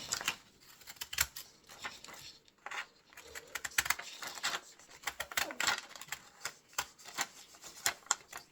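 Scissors snip paper during a child's drawing and paper-doll play at home, giving quick, irregular clicks and crisp cuts close to the microphone at a fairly quiet level.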